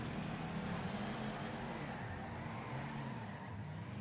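Engines in a Wreckfest multiplayer race growl and waver in pitch as a car spins out, a fairly quiet, continuous drone with no speech over it.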